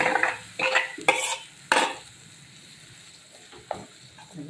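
A spoon scrapes and clinks against a pot of buttermilk curry with okra in a few irregular strokes, with a faint background hiss between them; no talking.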